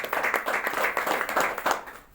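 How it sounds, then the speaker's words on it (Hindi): An audience claps loudly and steadily for about two seconds in a dense burst of hand claps, then it tapers off at the end. "एक बार फिर से जोरदार ताली बजाएंगे।"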